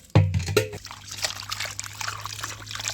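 Water trickles and splashes as lepta fish are rinsed of sand and ash, opening with a brief louder splash and then settling into a soft, steady dribble with a low hum underneath.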